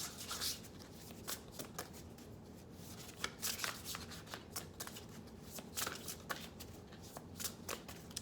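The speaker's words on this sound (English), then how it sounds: "let's get one more oracle card for my Libras before I close this up." Oracle cards being shuffled by hand, a soft, close series of riffling and flicking bursts repeating irregularly over several seconds, fairly quiet and with no talking.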